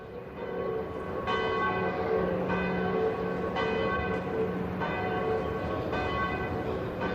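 The main bell of the Micalet tower at Valencia Cathedral tolls in slow, evenly spaced strikes about every 1.2 seconds, each ringing on under the next, clear and resonant over a steady low background.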